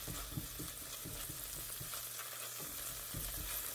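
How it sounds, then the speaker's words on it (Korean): Chopped green onions sizzle steadily in a generous pool of oil over medium heat for a Korean soft tofu stew, with a dense frying hiss and a few soft stirring taps, no voices. "불은 중불로 파를 볶아줍니다."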